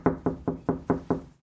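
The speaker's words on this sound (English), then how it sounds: "4 soft knocks." A run of soft, evenly spaced knocks on a plain beige door, close and dry, six rhythmic raps in quick succession with no voices, ending in silence.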